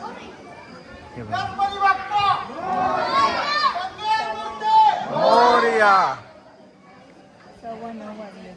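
Dense crowd chatter fills a busy temple on a monsoon family trip, with many overlapping voices including children, swelling and fading close by before thinning out toward the end.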